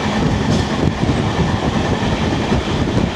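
The Araku mountain railway train climbs uphill with a dense, continuous rumble and rattle of wheels and carriages, loud and close, with no voices.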